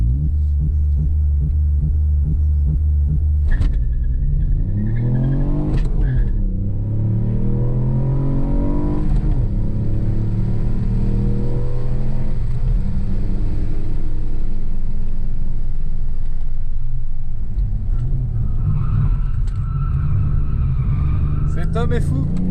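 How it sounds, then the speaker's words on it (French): A Ford Fiesta ST Mk8 pulls away on launch control, its engine revving hard and rising through the gears, with a loud, close rumbling throb that lasts throughout while people talk over it. "Oh, launch control."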